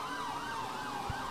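Police car siren in the GTA 5 video game, a continuous wailing tone rising and falling smoothly, moderately distant and heard alone without talk.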